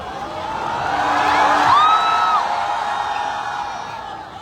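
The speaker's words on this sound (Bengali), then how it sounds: "একটু জোরে হাততালি হোক ওর জন্য। জোরে হাততালি হোক।" A crowd at a big carnival in Madhyamgram claps and cheers for a fan. The noise swells to a peak midway, with a shrill whoop or whistle rising above it, then eases off slightly.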